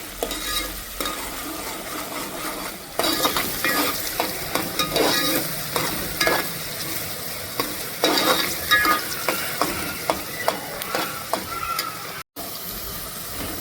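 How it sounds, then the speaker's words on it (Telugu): Onions with curry leaves frying in hot oil while being cooked toward golden, a continuous crackling sizzle broken by repeated scraping stirs of a spoon against the pan, close and steady. "అన్నీ మంచి గోల్డెన్ కలర్ వచ్చేంత వరకు ఫ్రై చేసుకోవాలి ఉల్లిగడ్డ"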